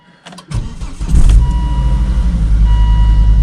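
Volvo V70 engine with a freshly replaced battery is started on a freezing day: a brief starter crank catches at once and settles into a loud, steady idle rumble nearby.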